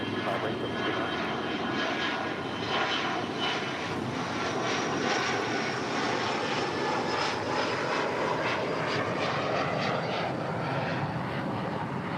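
An airplane departs from runway 25 right, its engine roaring steadily at a distance for the whole stretch, with a faint rising whine as it climbs away.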